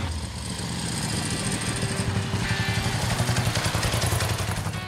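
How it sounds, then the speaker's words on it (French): A newly built motorcycle from a three-year project runs on its first test ride, its engine holding a steady, loud, rumbling drone with a faint pulsing throb throughout and no voices. "Ça va être quelque chose, cette moto."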